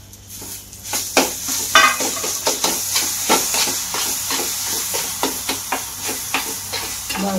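Dry fruits and cardamom powder being stirred in a hot frying pan, a soft hissing sizzle broken by a regular series of scraping stir strokes, close and steady, with no talking.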